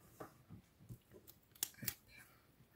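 Small scissors snipping paper for a craft project, a handful of short crisp cuts spaced irregularly with light rustling between them, close and fairly quiet.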